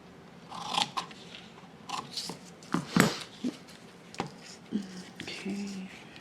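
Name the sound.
scissors cutting collage paper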